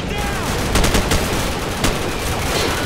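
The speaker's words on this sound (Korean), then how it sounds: "뭐야, 쏘고 있다, 야" Rapid gunfire crackles in Call of Duty 4: Modern Warfare as loud, dense bursts of automatic shots over a constant roar of battle noise.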